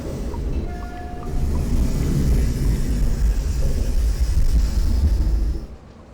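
Submarine ballast valves flooding as the boat dives in Silent Hunter 3: a loud, steady low rumble and rushing roar that swells after the first second and holds, then drops off near the end.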